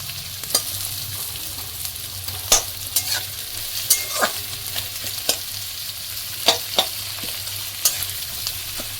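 Onions sizzle softly in a pan while a spoon stirs and scrapes against the metal every second or so, a steady frying hiss under irregular clinks, with no talking.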